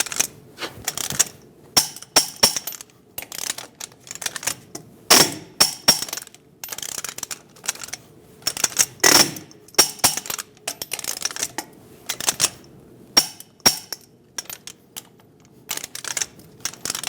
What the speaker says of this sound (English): Torque your lug nuts to 140 foot-pounds in a star pattern.